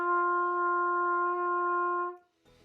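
A trumpet sounds a single sustained G, played with no valves pressed, steady and clear for about two seconds before cutting off, with a brief shuffle of noise afterward.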